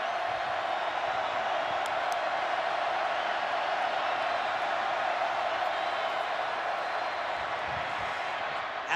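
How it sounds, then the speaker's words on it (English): Stadium crowd at a Florida at LSU college football game, a dense, steady roar of cheering voices sustained loud and unbroken throughout. "What a crowd."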